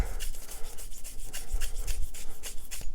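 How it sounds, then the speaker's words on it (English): A brush scrubbing the slide channels of a Rock Island Armory 1911A1-FS pistol, quick close rhythmic back-and-forth rasping strokes, about a dozen in a row, fairly soft and with no talking. "Scrub those slide channels."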